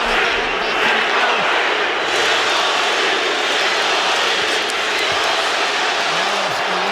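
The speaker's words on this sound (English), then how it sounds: "You hear the crowd for Triple G, trying to get up by Canelo." A boxing arena crowd roars for Golovkin in his fight with Canelo, a dense, continuous wash of cheering that holds loud and steady throughout.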